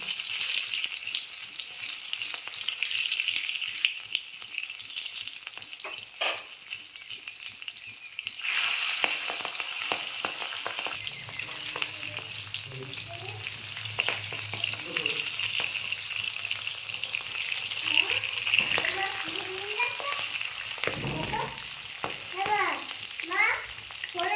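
Cabbage frying in hot white oil in a pan, a steady close sizzle running throughout, joined midway by a low hum and scattered clinks of stirring.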